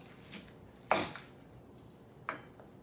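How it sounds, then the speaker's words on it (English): A kitchen knife slices the end off a corn cob on a cutting board: two crisp, close chopping strikes, a soft one followed by a sharper louder cut, then another later, with near-silence between. "And now I'll use a knife. Just cut the end off."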